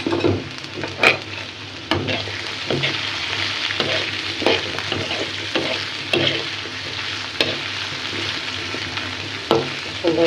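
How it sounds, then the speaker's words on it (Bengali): Garlic and green chilies fry in hot oil in a wok with a steady, close sizzle, broken by periodic sharp scrapes and clinks of a stirring utensil against the pan. "এবার আমি রসুনটা ডালুম, হালকা ডালা দিব, রসুনের সাথে কটা কাঁচা মরিচও দিব"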